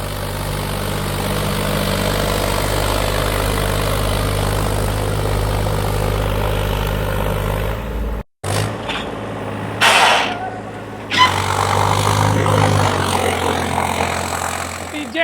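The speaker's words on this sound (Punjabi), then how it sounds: "ਫੁੱਲ ਰੇਸ ਤੇ ਟਰੈਕਟਰ ਚੱਲ ਰਿਹਾ 100 ਚੱਕਰ ਤੋੜ ਰਿਹਾ ਇੱਥੇ" A heavy Swaraj 855 tractor engine drones steadily at full revs, loud and close with a low rumble, briefly interrupted before the roar resumes with some background noise.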